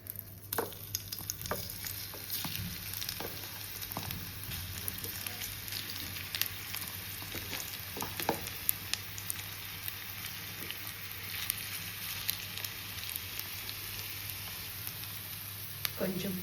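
Smashed potato frying with rice and garlic in a pan, a soft continuous sizzle punctuated by light scraping stir clicks, fairly quiet and close, with no clear talking.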